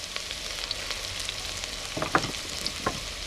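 Onions and garlic fry in oil in a pan for a Thai yellow curry sauce, a soft, steady sizzle with a few sharper crackles and stirring clicks near the end.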